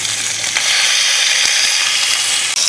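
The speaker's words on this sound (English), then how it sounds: "The sound of steak sizzling" Steak sizzling on a pan at a campsite, a loud, continuous close-up hiss and crackle of frying fat with no voices.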